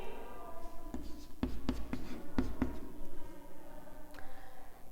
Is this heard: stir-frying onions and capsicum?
no